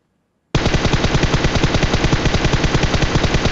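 Automatic gunfire in the video game PUBG, a loud, rapid machine-gun burst that starts abruptly after a brief silence and keeps up a steady, fast rhythm of shots to the end.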